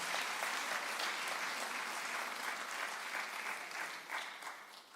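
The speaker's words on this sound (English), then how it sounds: "A round of applause, please, for Professor Sibongile Mutwa." A large audience at a university cultural evening claps for Professor Sibongile Mutwa, a steady, fairly faint wash of many hands that tapers off slightly near the end.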